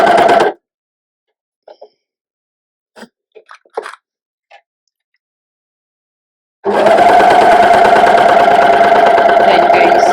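A sewing machine with a cutting knife stitches and trims fabric at about a 5/8-inch seam, starting with a brief burst, then a few faint clicks and taps, before settling into a loud, continuous, close whirring run.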